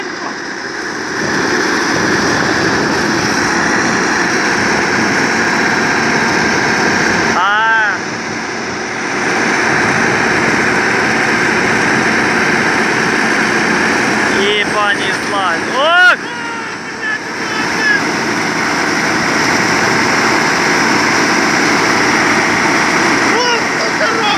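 A Niva SK-5M combine harvester engine runs at its first start, a loud continuous drone with wind rumble, briefly dipping and changing pitch as it revs.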